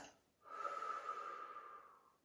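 A single slow, deep exhalation during a beginner Pilates exercise with a resistance band, a soft breathy rush lasting nearly two seconds, quiet and close, with no talking over it.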